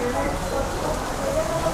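Steady rain pours down outdoors at a steak restaurant, a dense continuous hiss filling the background at moderate level with faint voices underneath.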